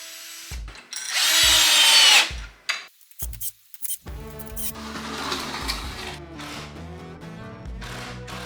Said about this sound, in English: mark for some casters and drill the holes and then install some hardware.